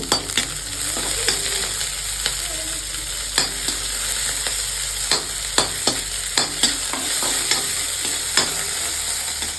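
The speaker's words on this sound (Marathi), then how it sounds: "कांदा चांगला तळला" Onions fry in a pan for a village-style Marathi besan bhakri meal, with a dense continuous sizzle and crackle broken by regular sharp scrapes and taps of a spoon, close and fairly loud, with no talking.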